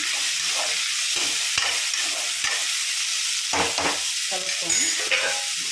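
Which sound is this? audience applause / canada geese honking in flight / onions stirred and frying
onions stirred and frying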